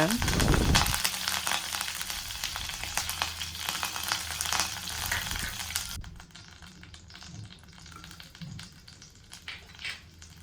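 Mustard seeds and urad dal sizzling in hot oil in a kadai, a loud crackling fry that drops abruptly to a quieter simmer with a few pops, with a voice heard at moments.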